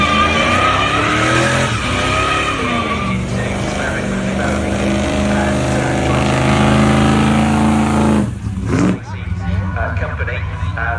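A car spins donuts in a show arena at Carfest North, its engine roaring steadily near and loud with tyres squealing under constant crowd and announcer noise, then briefly dipping before surging again.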